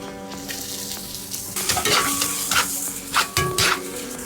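Bell peppers sizzle and fry in a hot pot, with a steady crackling hiss and louder bursts as they are stirred. No one speaks.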